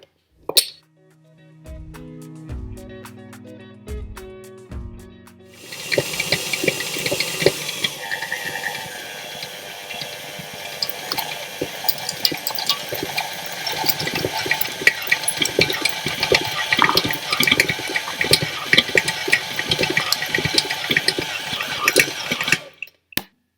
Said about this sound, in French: le batteur force quand même pas mal